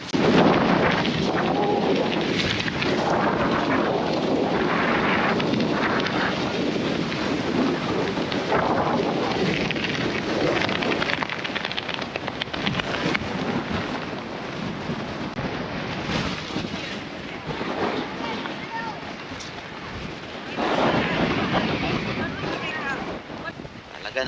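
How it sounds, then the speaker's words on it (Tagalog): Strong wind at the Black Sand Beach in Iceland, roaring and buffeting heavily across the microphone with constant loud rumbling gusts that surge and ease throughout, while people speak briefly beneath it. "Very windy."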